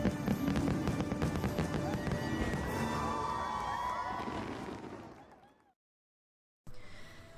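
Fireworks at a Disneyland nighttime show crackle and pop over a cheering crowd and music, fading to silence before the crowd noise briefly returns.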